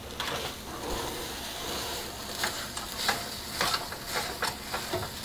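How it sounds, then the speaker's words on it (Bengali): A thick almond barfi mixture with raisins and candied fruit pieces is stirred in a pan, giving repeated scraping strokes and soft knocks over a low sizzle, close and fairly quiet, without speech. "আর কিছুক্ষণ নাড়াচাড়া করে আর একটু শক্ত করে নেব।"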